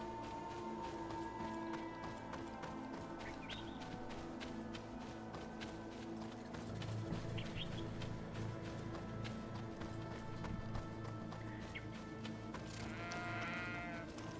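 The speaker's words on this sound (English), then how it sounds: "Look at the goats." Distant goats bleat faintly now and then in the video game GreedFall, over a steady ambient background with soft footsteps.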